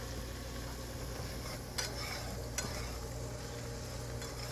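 Shrimp bread cooks in a pan with a steady, soft sizzle that runs the whole time, plus a couple of faint utensil clicks and no voices.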